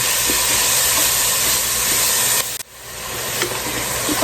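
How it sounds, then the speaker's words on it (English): Vegetables for Southern-style black-eyed peas cook in a pot with a steady, close hiss and sizzle that dips briefly partway through, then carries on. No talking. "we just want to cook this until our veggies are nice and tender."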